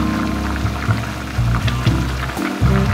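Water pours and splashes into a bowl of shredded potatoes as they are rinsed and soaked, a steady close liquid stream with uneven gurgles and bumps.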